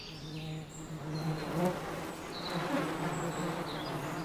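Dense, steady buzzing of an overcrowded honeybee colony packed into a hive with about 50,000 worker bees, a continuous close drone with slight swells in loudness and no voices.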